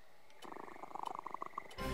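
A soft, rhythmic cat purr from a video game pulses in quick repeated beats over a faint hum, ending with a brief burst of noise.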